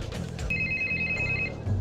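Phone ringing in the Barbie Secret Agent video game, a bright electronic ring tone holding steadily for about a second over low game music, clear and close, with no talking.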